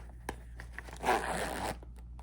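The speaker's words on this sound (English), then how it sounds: "I will get a really good zip out of this" A zipper on a bag is drawn in one smooth, close pull lasting about half a second, preceded by a few soft taps and handling clicks in a quiet indoor setting.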